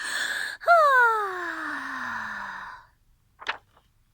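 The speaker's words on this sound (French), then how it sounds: "Ils bâillent." A single long, drawn-out yawn whose voiced tone slides steadily downward before fading out, followed by a brief soft sound.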